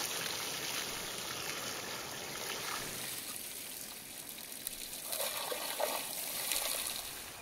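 Cold water pours steadily over a plucked ostrich on an outdoor wilderness farm, a continuous close trickling and splashing stream that swells slightly toward the end, with no voices.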